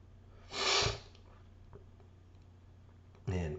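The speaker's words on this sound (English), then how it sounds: "I've got a little bit of a sniffle going on here" Two sharp nasal sniffles from someone with a slight cold or allergy, one near the start and another at the end, with a quiet ticking hum in the background of a workshop.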